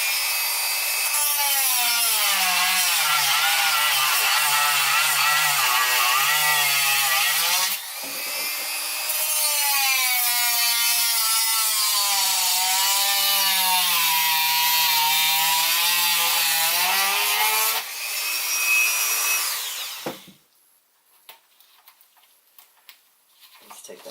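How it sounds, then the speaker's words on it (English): A Dremel rotary tool cuts into a plastic Nerf blaster body, making a loud, high whine that wavers in pitch over two long passes with brief breaks before cutting off abruptly, followed by faint handling noise. "take the Dremel and cut a little bit of this back"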